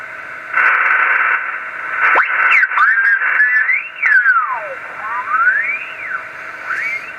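Hissing radio static from an early Yaesu FT101 receiver with a suspected VFO fault, its tuning signal whistling and sweeping up and down in pitch, wavering and fading; fairly loud and steady throughout.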